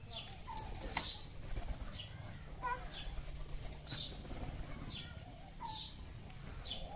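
A pigeon takes off and flies away in a village, its wings flapping in several quick bursts, with bright bird chirps and calls mixed in over a soft outdoor background.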